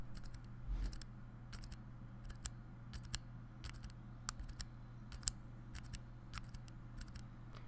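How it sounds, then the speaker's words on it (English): A Cherry MX Brown mechanical key switch pressed repeatedly without bottoming out, each press giving a light, crisp click or tick in a steady, evenly spaced series over a faint background hum. "Have a listen to what the Cherry MX Brown switch sounds like. First, I'm going to press it without bottoming out the key"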